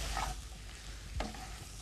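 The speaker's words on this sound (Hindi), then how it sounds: "जब आप इसको भून रहे हो तो अच्छी तरह से इसको मिक्स करते रहें चलाते रहें ताकि जो चिकन है वो भी ना जले" Chicken pieces and wheat flour roast in a pan as they are stirred, a soft continuous sizzle with scraping strokes and one sharper clack of the spoon near the middle, moderately close and fairly quiet.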